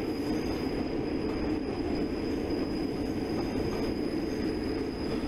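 A passenger train on the Weardale and Teesdale Network to Bishop Auckland in Train Simulator 2016 makes a steady rumbling run with faint wheel noise and a thin high whine. The sound is continuous and even, with no voices.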